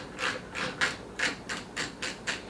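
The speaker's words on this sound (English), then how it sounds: "take out our bolts holding our caliper on" Brake caliper bolts on an Avanti brake kit being worked loose with a hand ratchet, giving a series of about eight evenly spaced clicking strokes, close and fairly loud with no talk.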